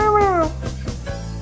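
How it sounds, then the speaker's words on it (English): A cartoon kitten from Simon's Cat gives a brief high meow that slides downward, followed by a low steady hum. "It's the kitten from Simon's Cat."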